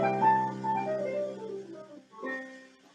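Barrelhouse-style blues phrase played with a flat third, a short run of sliding, bending notes that fades before a second softer figure, moderately quiet and unaccompanied.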